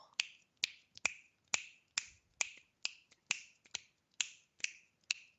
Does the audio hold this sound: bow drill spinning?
no